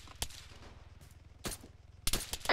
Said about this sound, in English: Small arms fire, that's gonna kill.